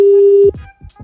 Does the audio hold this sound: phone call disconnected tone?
yes